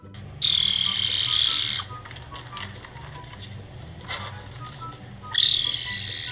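A caracal making loud, shrill, buzzing calls in two long bursts separated by a pause, with softer chirps in between, close to the listener.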